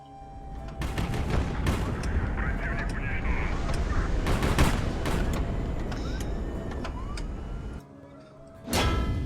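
A bomb bursts in the naval war game HighFleet, with a dense rumbling roar of blasts and gunfire-like cracks sustained throughout, fading briefly before a final loud burst.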